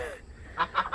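A goose honks three times in quick succession near the end, short nasal calls that are fairly close, following a brief stretch of low background murmur.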